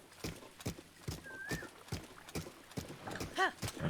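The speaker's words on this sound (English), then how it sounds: "horses love galloping through wet sand in real life." Horse galloping across wet sand on a beach in Zelda: Breath of the Wild, a steady run of clip-clop hoofbeats with a brief whinny near the end, fairly close and clear.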